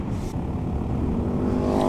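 A Honda Monkey motorcycle with a Scorpion exhaust revs on the road, a loud, close, sustained engine roar that stays steady and strong for a couple of seconds.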